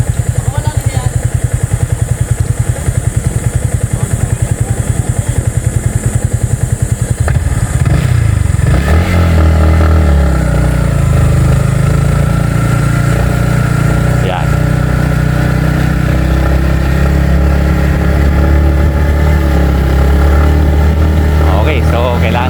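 A motorcycle engine revs hard as the rider climbs a very steep off-road trail during a championship race, loud and close with rattling clatter. The pitch jumps and holds a strained, rising drone partway through.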